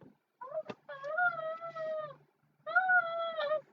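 Two drawn-out cat meows, close and clear, with a short sharp click just before the first and a brief pause between them.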